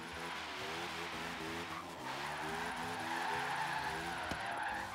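A car drifts through a drift zone in the racing game Forza Horizon 3, its engine droning in steady revving steps under a continuous tyre squeal, moderately loud with no talk.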